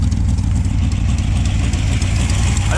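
Dodge Dart engine with a carburetor and electronic ignition idling steadily, a loud, close, low rumbling throb that holds even and unbroken.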